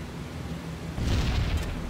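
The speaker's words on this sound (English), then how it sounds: "It's a bit of anti-aircraft fire? One burst of it, anyway." A single anti-aircraft flak burst booms in a B-17 Flying Fortress bomber game, arriving halfway through as a loud, rumbling low blast over steady engine drone.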